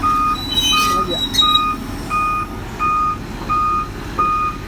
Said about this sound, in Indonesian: Ini mulai naik ekskavatornya ke atas trailer.